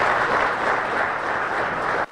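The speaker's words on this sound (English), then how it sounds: "A roar of applause filled the Copper Lounge on Montana Tech's campus today to welcome in the newest head football coach, Kyle Samson" A packed room in a campus lounge at Montana Tech bursts into loud, sustained applause welcoming a new head football coach, cutting off abruptly at the end.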